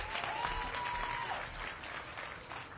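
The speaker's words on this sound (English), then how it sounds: "Let's give them all a strong round of applause" Crowd applause at the groundbreaking ceremony for the Universal Hip Hop Museum in the Bronx, a dense steady clapping that carries through the whole stretch, loud and close with no voices over it.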